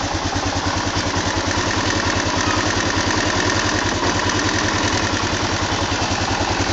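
A motorcycle engine idles with a freshly changed chain and oil and is otherwise unmodified. Its even, rapid thumping pulses hold steady and close throughout, with light mechanical clatter over the top.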